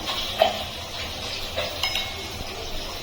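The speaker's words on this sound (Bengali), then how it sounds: "ভালো করে মিশিয়ে নেবো দইয়ের সঙ্গে মশলাটাকে" Close, soft stirring and scraping as chilli, cumin and coriander powders are mixed into a spoonful of sour yogurt in a small bowl, with faint spoon clinks over a low kitchen hum.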